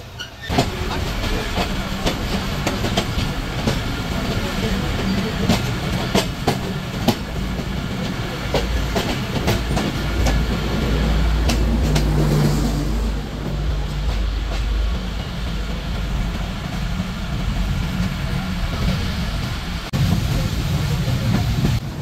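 Titumir Express train with a white rake rolling along the rails, a loud steady rumble with clickety-clack beats and a low roar that swells midway, heard up close from on board.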